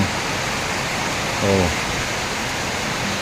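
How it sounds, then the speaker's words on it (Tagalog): Dense, steady roar of heavy rain pouring down, heard from a third floor, with a brief low voice-like sound in the middle. "Sobrang lakas ng ulan mga kaibigan."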